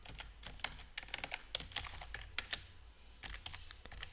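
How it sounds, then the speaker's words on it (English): Rapid, uneven typing on a computer keyboard, close and clear, with bursts of sharp key clicks and brief pauses, no voices. "just click on that box and continue typing. You just continue typing."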